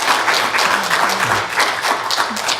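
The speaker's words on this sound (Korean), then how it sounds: "우리 환영의 박수 좀 드릴까요?" A congregation in a Korean church gives a round of welcoming applause for visiting pastors, dense steady clapping from many hands filling the room for a few seconds.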